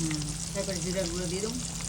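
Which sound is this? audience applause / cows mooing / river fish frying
river fish frying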